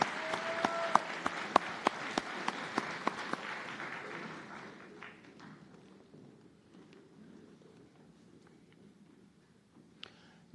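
Audience applause at a white coat ceremony: a burst of clapping with a few sharp, close claps that thins and fades to a sparse patter over the second half.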